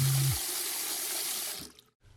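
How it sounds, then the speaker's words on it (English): A water tap runs steadily into a sink while a face is splashed a few times, the broadband rush cutting off near the end with brief quiet dripping after. "He turns on the water and splashes his face a few times."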